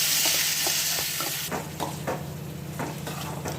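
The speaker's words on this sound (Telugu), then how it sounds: "పోపు ఫ్రై అయ్యాక ఈ కారంని ఇందులో వేసి కలుపుకోవాలి" Chili powder is stirred into a frying tempering for a tomato kaaram, a soft steady sizzle under repeated scraping strokes of a spoon against the pan, close up.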